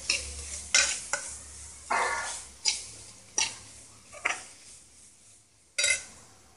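Paneer filling seasoned with salt and cumin powder being lightly roasted in a pan, heard as a soft sizzle broken by repeated spatula strokes and scrapes, about eight distinct stirs in a slow irregular rhythm, close and clear, with no talking.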